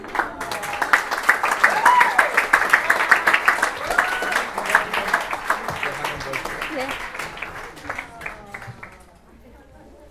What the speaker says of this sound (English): Big round of applause, please, again for beautiful mother of the Guru